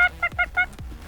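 A rubber chicken toy squawking in a few quick honking bursts, loud and close, with a strained goose-like squeal and no talking.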